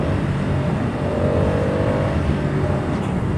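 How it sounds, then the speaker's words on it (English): A 2023 Moto Guzzi V100 Mandello S engine under acceleration through clutchless quick-shifter shifts, a loud continuous drone with wind noise from a riding perspective. "Clutchless shifts are cool. So it's got the quick shifter up and down."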